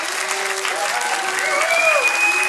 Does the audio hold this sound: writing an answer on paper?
no